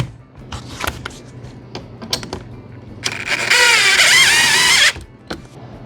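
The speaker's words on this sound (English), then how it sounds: "Drill it down to my workbench just like I did yesterday." A power drill drives screws down into a workbench: scattered clicks and knocks of handling, then a loud, close whine of the drill motor running for about two seconds before stopping.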